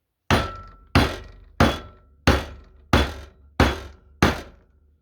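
Seven evenly spaced, firm thuds of gentle pounding on an aluminum motor housing during reassembly of a Wascomat W125 washer motor, each a close knock with a short ringing decay.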